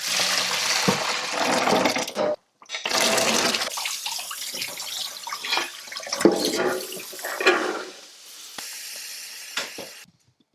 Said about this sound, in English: I'm going to rinse it again, replace the water, and I'm going to put it to boil.